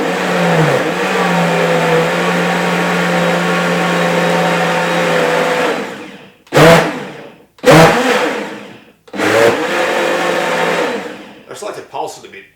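An electric blender runs steadily on leek and potato soup, then pulses in three or four short, sharp bursts separated by brief silences, loud and close.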